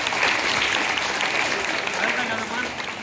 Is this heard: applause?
yes